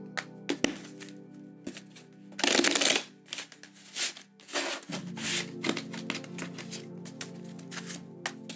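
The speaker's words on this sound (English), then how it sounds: "we're going to do 3 shuffles and get into your energies for the weekend" A deck of tarot cards is shuffled at close range, with repeated riffling bursts, soft slides and sharp taps against a steady low hum, and no speech over the top.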